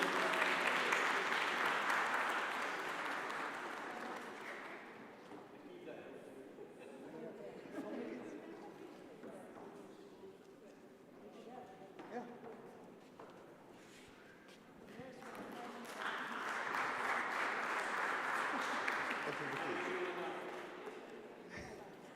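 An audience at a conference on Africa's global role claps in a sustained burst, fades while a voice speaks, then breaks into a second round of steady applause.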